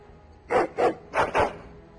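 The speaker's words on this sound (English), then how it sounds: "Your hound is making so much noise." A Mabari war hound in the video game Dragon Age: Origins barks four times, loud and close, in two quick pairs with short pauses between them.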